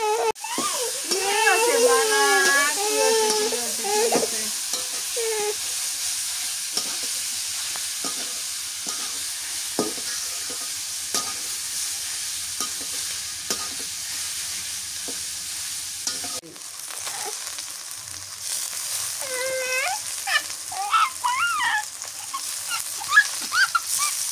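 Salmon curry ingredients fry with turmeric and salt in a pan, a soft steady sizzle with occasional stirring clicks, and a voice talking at the start and again near the end.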